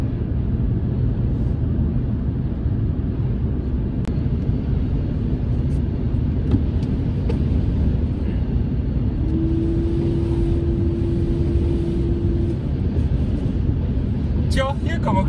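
Steady low road rumble and wind noise inside a Smart EQ electric car cruising on a long-distance drive toward Bad Mergentheim in headwind, constant throughout, with a brief tonal hum midway.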